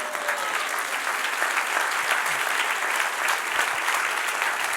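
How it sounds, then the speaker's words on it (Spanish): Church congregation breaking into sustained applause, a steady wash of many hands clapping at even loudness throughout, with no speech over it. "Ay, dale un aplauso al que reina."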